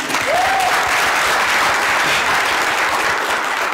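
A live masterclass audience claps steadily in a dense, sustained round of applause that stays loud from start to finish, with a brief cheer or whistle near the beginning.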